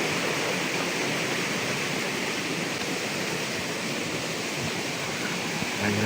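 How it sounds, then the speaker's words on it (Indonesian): A river rushes beside a mountain hiking trail, producing a steady, loud roar of flowing water that fills the scene evenly throughout, with no speech. "Ini jadi sungai ya."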